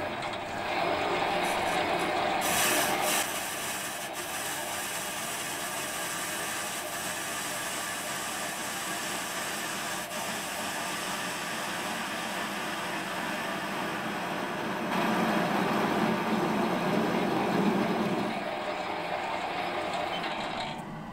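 A metal lathe taking a facing cut on a model engine flywheel, a continuous loud mechanical whir and hiss of the turning work and tool, swelling briefly in the middle of the cut, with no talking.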